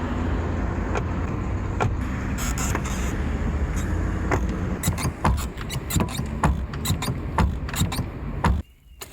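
An ordinary, non-premium car recorded up close for sound design, a steady low mechanical rumble overlaid with a series of sharp clicks and ticks that grow busier, then stop abruptly near the end.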